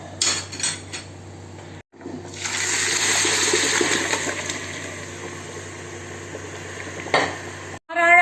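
Hot water pours into a pot of mutton biryani with a rushing, hissing gush after a few clinks of cookware, then a final clatter of a pot or lid.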